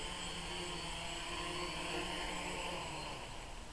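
The electric motors of a BumbleBee 550 RC aircraft hum and whine steadily after landing, a continuous close tonal drone that stays level and does not yet audibly fade.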